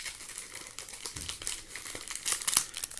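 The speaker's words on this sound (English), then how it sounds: "I'm gonna shuffle these." Trading cards fresh from a box rustle and crinkle while being shuffled by hand, giving a close run of uneven papery swishes and soft clicks.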